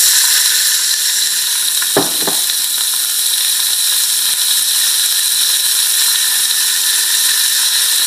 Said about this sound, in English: So the first thing we do then is add our 1 chopped onion